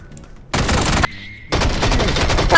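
Rapid automatic gunfire from a video game comes in two loud, close bursts: a short one, a brief pause, then a longer sustained volley.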